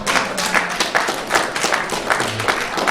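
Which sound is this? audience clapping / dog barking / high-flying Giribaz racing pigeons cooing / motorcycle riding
audience clapping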